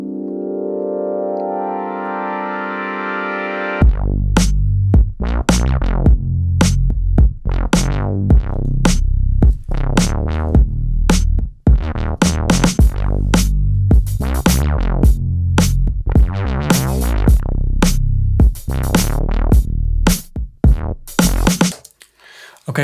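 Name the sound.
drum beat processed with DS-10 Drum Shaper plugin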